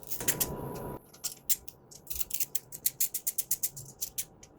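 Metal clicks of a spanner tightening bolts while fitting a stage 1/2 intercooler on a Ford Focus XR5/ST225, a quick series of close, sharp ratcheting ticks after a brief rustle.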